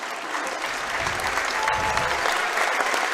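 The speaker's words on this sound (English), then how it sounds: "Getting a well-deserved round of applause here on senior night." A high school boys basketball crowd applauds on senior night as players leave the game, a continuous wash of clapping and crowd noise filling the gym at a steady, fairly loud level.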